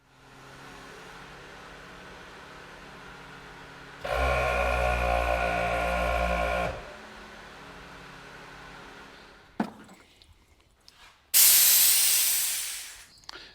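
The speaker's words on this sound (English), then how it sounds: "Air compressor works." An ARB air compressor mounted in the back of a Jeep starts up, a loud steady buzzing hum that runs for under three seconds and then stops, followed by clicks and a sharp, loud hiss of released air.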